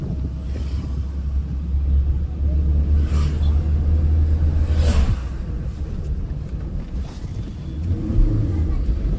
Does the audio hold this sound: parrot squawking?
no